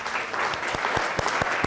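Audience at a museum learning center speaker series event applauds the evening's sponsor, a landscaping company, with steady dense clapping and a few sharper individual claps standing out, moderately loud and continuous.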